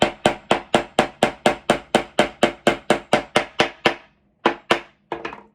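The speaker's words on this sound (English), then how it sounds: "it's a lot easier to hammer on that than on this like wobbly little end table" Steady hammer blows strike a wobbly little end table while a family name house sign is made, about a dozen sharp evenly spaced knocks, then a pause and a few quicker taps. The hits are close and loud, with no talk.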